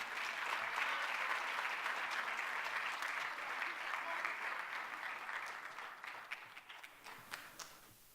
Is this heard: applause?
yes